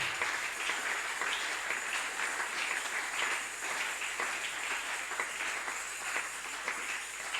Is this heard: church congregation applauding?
yes